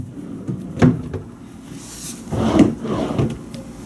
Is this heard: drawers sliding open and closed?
yes